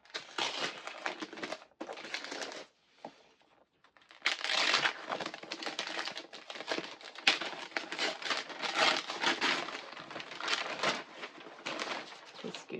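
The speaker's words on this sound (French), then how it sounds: "Parce que je déballe." Paper wrapping is torn and crinkled off a book from an Advent calendar, with bursts of close rustling and ripping, a brief pause, then sustained crackling handling.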